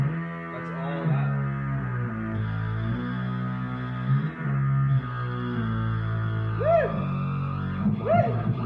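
A heavily distorted electric instrument in a recording studio sustains thick, buzzy chords, with bending slides toward the end, loud and continuous.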